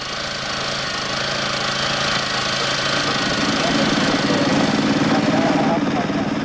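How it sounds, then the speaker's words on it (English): A rail being drilled on a track in Thailand during resignalling work gives a steady, loud mechanical engine-driven drone that holds throughout and swells slightly near the end. "The rail is drilled and cleaned before cutting."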